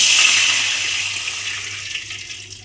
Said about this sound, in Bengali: এবারে ঘিয়ের মধ্যে আমি দিয়ে দেব অল্প জল।